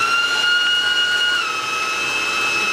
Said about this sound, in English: Now we're going to turn the mixer on